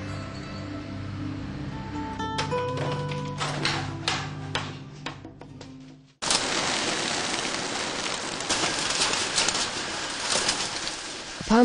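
Racing pigeons released from a truck: soft cooing over a steady tonal background, then an abrupt, loud, broad rush of flapping wings that fills the rest of the clip.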